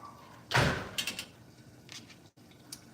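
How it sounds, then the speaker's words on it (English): A door swung shut with a loud thud, followed by fainter clicks and rattles of the latch being locked, in a quiet home. "Can you lock the door too, please? Do not leave the door open because mosquitoes come in."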